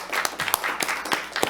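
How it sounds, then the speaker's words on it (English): Light, scattered applause for county CalFresh staff at a Board of Supervisors meeting, a handful of distinct hand claps at uneven intervals, fairly quiet and close, with no talking over them. "let's give a little applause for the staff of CalFresh"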